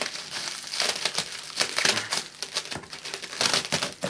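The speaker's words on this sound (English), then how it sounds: "let's get my scissors and cut through." Scissors cut open the cardboard box of an Electrolux Z5010 Excellio vacuum cleaner, producing close, irregular crinkling and crackling snips and tearing bursts over about four seconds.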